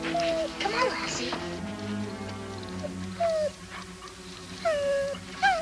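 A dog whimpers and whines in short rising, wavering cries, several separate bursts close by, heard alongside a steady tonal background and some low talk.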